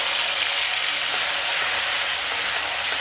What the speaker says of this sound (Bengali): দেখুন তেলটা গরম হয়ে গেছে এই তেলে এবার আমি চিংড়ি মাছটাকে দিয়ে দেবো